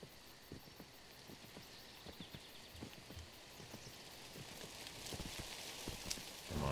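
Horse hooves clop in the video game Kingdom, a steady run of close, evenly spaced footfalls that grows denser and a little louder toward the end, with a light rain-like hiss underneath.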